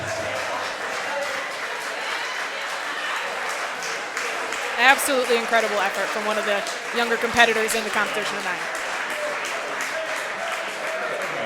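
A wrestling crowd at a Saint Louis Anarchy tournament show applauds steadily for a young competitor, a loud sustained wash of clapping with a swell of cheers midway, under continuous excited commentary.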